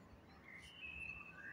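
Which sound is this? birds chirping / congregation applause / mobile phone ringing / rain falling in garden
birds chirping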